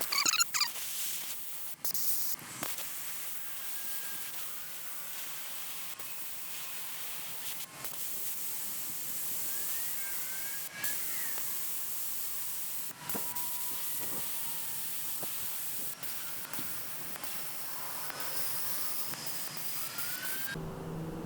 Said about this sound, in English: So this is a little bleeder valve I was talking about earlier.